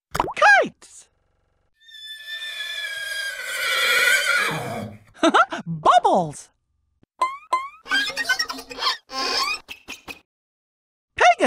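A Pegasus horse neighing in the Disney Learning Phonics Quest video game, with loud whinnies, whooshing and bouncy cartoon effects in short bursts separated by brief silences.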